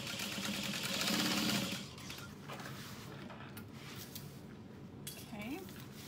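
A sewing machine stitches a strap connector onto a vinyl bag with fabric lining, giving a loud rapid whirring run that stops after about two seconds, followed by quieter handling clicks and shuffling.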